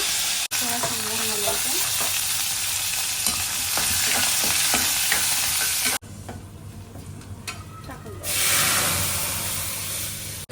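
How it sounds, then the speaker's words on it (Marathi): Cumin, mustard seeds, garlic, chili and curry leaves sizzle in hot oil for a kadhi tempering, a loud continuous frying hiss with stirring scrapes, briefly dropping then surging again near the end. "कढी फोडणी टाकायसाठी काय टाकलं जिरो मोहरी आणि काय टाकायचं लसण मिरची कढीपत्ता"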